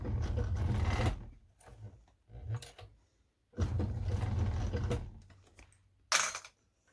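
A Cowboy CB6900 industrial sewing machine stitches through a bag in several bursts of rapid mechanical chatter separated by pauses. The running is close but fairly quiet, and a short, sharp mechanical clunk comes near the end.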